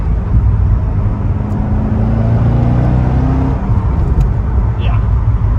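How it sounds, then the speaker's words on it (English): A 2006 Chevrolet Corvette Z06 engine hums low and steady, then its pitch drops as it downshifts from fifth to fourth to third, with road noise throughout and no one talking. "Downshifts are really smooth. Fifth to fourth, now down to third."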